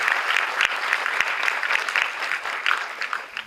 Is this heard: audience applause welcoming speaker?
yes